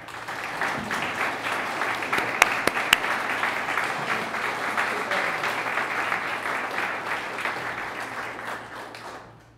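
An audience at the Charles Olson Lecture in Gloucester applauds steadily for lecturer Ann Charters, with dense clapping lasting several seconds and a few sharper claps near the start before it fades out at the end.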